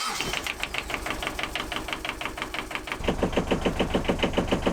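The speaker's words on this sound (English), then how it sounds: "Just gonna put the engine on, run it for a little bit and just check that everything seems okay" A small sailing boat's engine starts and chugs with a fast, even knocking rhythm, then grows louder and deeper partway through as it settles into a steady run.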